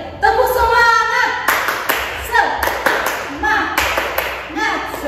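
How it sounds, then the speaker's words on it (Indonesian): Children at a Sunday school service clap a rhythmic 'tepuk semangat' group clap, sharp bursts of clapping in a patterned beat alternating with children's voices chanting and singing along. "Oke, kita tepuk sekali lagi ya. Tepuk semangat."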